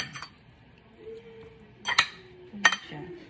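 Utensil scraping and clinking against a pan while stirring garlic powder chicken, with a few sharp metallic clinks spread across a quiet kitchen background.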